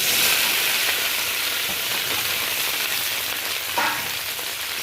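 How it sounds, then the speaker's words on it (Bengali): Okra frying in hot mustard oil gives a steady, loud sizzle that holds evenly throughout, with a brief swell of crackle near the end and no voices. "তেলটা গরম হয়ে গেছে এই পর্যায়ে কেটে রাখা ঢেঁড়সটা আমি ভেজে নেব"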